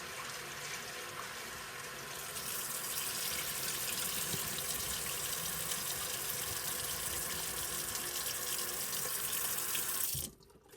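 Tap water runs steadily into a kitchen sink as fish is rinsed for soup, a continuous close splashing hiss that swells after a couple of seconds, holds, then stops abruptly near the end.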